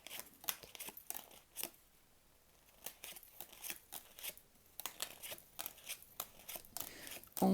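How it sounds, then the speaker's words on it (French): Tarot cards are counted out and drawn one by one, giving a series of soft, close papery flicks and slaps at an irregular rhythm. "Allez, on tape 13 cartes."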